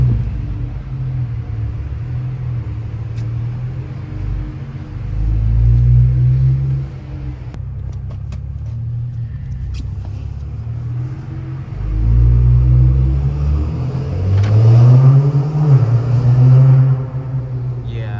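A BMW 535i with a stage 2+ tune rumbles in an underground parking garage, its engine droning low and loud with two swelling revs echoing off the concrete, heard from inside with the windows down.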